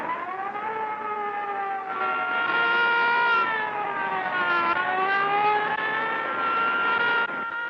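Wailing police radio car sirens rise and fall continuously, loud and sustained, several overlapping tones in a 1930s Manhattan street scene.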